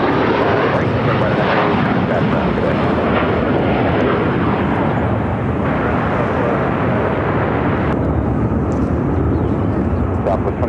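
An Air Canada Rouge Airbus A319 jet heading to Montreal at Phoenix airport roars loudly and steadily for the whole stretch, a dense broadband engine rush close by, with radio-style voices faintly beneath it.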